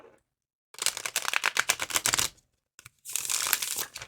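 A Black Cats Tarot card deck is riffle-shuffled twice in quick succession, giving dense rapid flutters of card edges close to the listener, separated by a brief pause.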